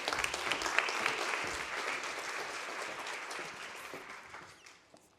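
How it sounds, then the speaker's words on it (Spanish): Applause from the audience at a conference presentation in Spain, a full, steady clapping that starts strong and gradually thins and fades away near the end. "Un aplauso."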